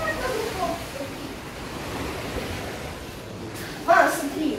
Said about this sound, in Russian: посмотрим, как у нас там волны